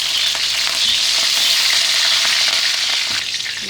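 Green chillies frying in hot oil for barbecue Peshawari boti make a loud, bright, continuous sizzle heard up close while being stirred, with a few soft scrapes and no voices.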